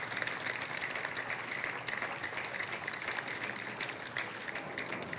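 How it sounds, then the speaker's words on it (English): A crowd at a high school groundbreaking ceremony applauds steadily for several seconds, a dense, even patter of clapping hands with no voices on top. "Please give them all a big round of applause."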